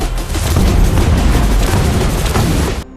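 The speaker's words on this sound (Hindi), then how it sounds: "महमद के ऑर्डर्स पर बसिलिका को बार बार चलाया जाने लगा।" Basilica, a giant siege cannon, fired as a dramatic sound effect: a loud, dense, rolling boom with heavy low rumble sustained for nearly three seconds before cutting off abruptly.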